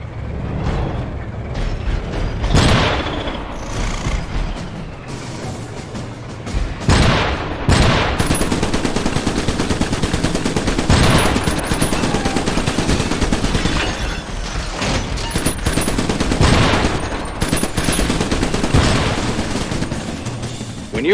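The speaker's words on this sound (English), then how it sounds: "Shotgun turret inbound to your location." Shotgun turret emplacement firing in the Xbox 360 game Iron Brigade, a run of loud, sharp blasts and mechanical clatter repeating across a dense battle mix with steady background din.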